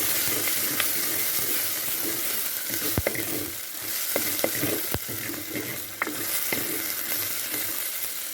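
Ingredients sauté in a pan before drumstick leaves go in, with a continuous close sizzle and hiss and sharp clinks from a stirring spoon now and then, and no one speaking.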